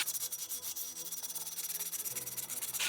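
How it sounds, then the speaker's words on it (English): Hand sanding with 80-grit sandpaper to strip leftover paint from an aluminum alloy wheel, heard as a steady run of quick, scratchy back-and-forth strokes close to the microphone, with no voices. "Again, with the 80 grit. Sanding off the rest of this paint."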